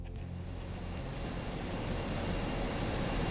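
Steady broadband drone of a British Aerospace RJ100 airliner's engines in a flight simulator, a constant loud whooshing roar with low rumble holding evenly throughout, no voices.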